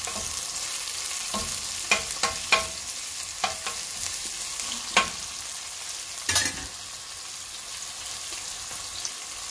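Onions for Thalassery fish biryani sizzling gently in a pan with soft scraping stirs and occasional clinks of a spoon, a steady low frying hiss throughout with no talk.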